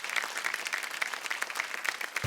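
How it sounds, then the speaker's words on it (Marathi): Studio audience applause on a Marathi women's game show, dense steady clapping from many hands at an even level for the whole stretch, with a brief low thump at the very end. "एकदा जोरदार टाळ्या होऊन जाऊ देत."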